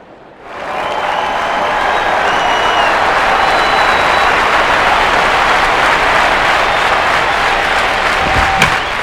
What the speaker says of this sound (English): And a collective exhale from this crowd.